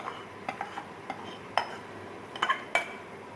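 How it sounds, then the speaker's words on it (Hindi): Dry whole spices, cumin, dried coriander and carom seeds, being stirred together in a bowl with a spoon, giving a few light scrapes and clinks, quiet and close, with no talking. "अब मसालों को हम मिक्स करते हैं अच्छी तरह से"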